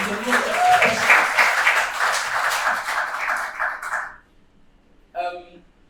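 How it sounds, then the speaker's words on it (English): An audience applauds a panelist at a Black funding panel event, a burst of clapping from a modest crowd that fades out, followed by a brief voice near the end. "Could you give her a round of applause as well?"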